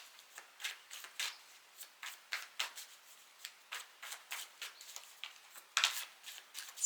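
A deck of tarot cards shuffled by hand in a steady run of soft riffling flicks, close and quiet, ending with a sharper snap as the deck is cut.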